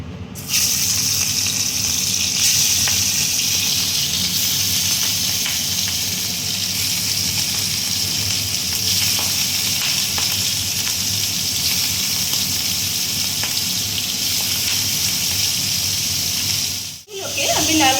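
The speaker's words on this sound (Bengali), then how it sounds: "তেলটা ভালোই গরম হয়ে গেছে এবার আমি মাছগুলোকে ভেজে নেবো" Marinated prawns frying in hot oil in a kadai, a steady, loud, close hiss and crackle running unbroken for most of the clip before a brief dip near the end.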